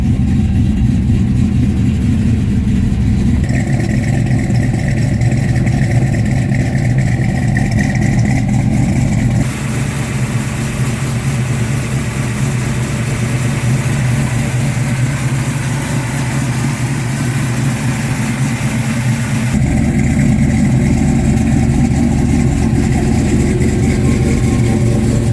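A 1967 Ford Mustang Fastback idles after starting, a loud, steady low engine rumble that holds for the whole stretch, with slight shifts in tone partway through and no voices.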